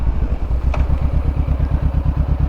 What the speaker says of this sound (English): the bike sounds so good